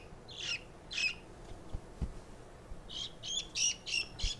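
Baby chick peeping in distress while its pasty butt is treated, sharp high cheeps coming in short bursts, with faint handling bumps between calls.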